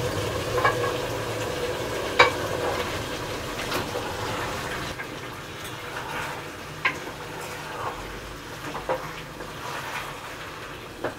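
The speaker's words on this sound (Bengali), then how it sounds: "মশলাগুলোর সাথে মাংসটাকে খুব ভালোভাবে মিশিয়ে দিলাম" Beef head meat, about 1.5 kg, being stirred with spices in a pan: a steady sizzle under repeated scraping strokes and occasional sharp utensil clinks, close and moderately loud, with no talking.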